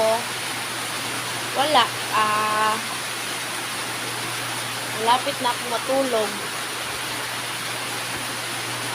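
Heavy rain pours steadily outside at night during a downpour, a constant broadband hiss with a low hum beneath, while someone speaks briefly over it twice.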